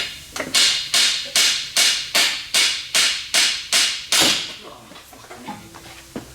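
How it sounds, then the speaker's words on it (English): Ten sharp metallic hammer blows on a Saab car part in a steady rhythm, loud and close, then a pause and a few faint knocks. "You need to hit it with the hammer, Trev."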